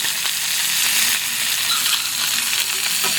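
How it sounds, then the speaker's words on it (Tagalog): Chicken pieces sear in their own rendered fat, giving a loud, continuous sizzle and frying hiss close by with faint stirring, and no one speaking. "Ganda ng pagka-sear."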